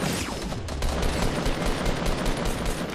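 Dense, rapid gunfire in the Fortnite video game rattles on for the whole stretch as loud, continuous bursts with no talking.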